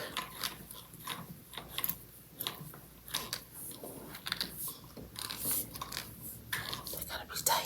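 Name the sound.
tightening parts of a white floor lamp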